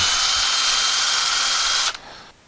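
A power drill runs loud and close in one continuous burst of about two seconds, boring a partial pilot hole for a mirror mount, then cuts off, leaving a quiet tail.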